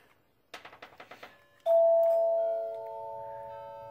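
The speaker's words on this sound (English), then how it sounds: "we have a door chime" A doorbell system at a house gives a few quick button clicks, then a loud two-tone chime that rings out and lingers as it slowly fades, close by with no talking.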